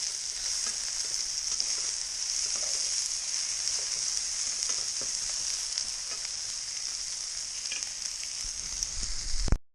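Onions, potatoes and bacon fry in a pan with a steady, bright sizzle and light crackling, continuous and close, tapering off abruptly at the end.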